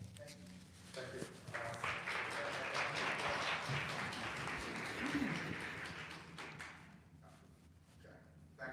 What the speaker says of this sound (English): We don't need the applause.